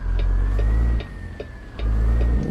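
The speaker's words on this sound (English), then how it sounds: "Listen to this engine, Vince." The Cummins straight engine of a stretched Peterbilt 379 truck pulls with a deep, loud, steady rumble, easing briefly before surging again, with a faint rhythmic ticking running through the cab.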